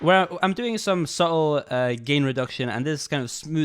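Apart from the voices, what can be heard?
No everyday noise stands out behind the speech.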